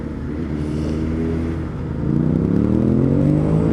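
Another rider's motorcycle engine idles with a steady low throb, then revs up with rising harmonic pitch, close and fairly loud on an evening ride.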